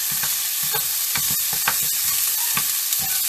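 Chicken, peapods and onions sizzle loudly in a hot pan while a utensil scrapes and stirs them in irregular strokes, with the frying hiss constant and close throughout.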